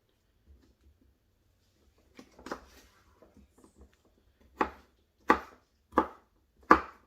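A knife chops poblano peppers into small segments on a cutting board, four sharp, evenly spaced strikes landing close and loud after a few quieter taps and scrapes.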